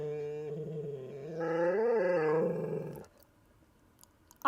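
A needy, sassy pet dog growls close by, a drawn-out rumbling grumble that rises and falls in pitch for about three seconds before fading to near quiet.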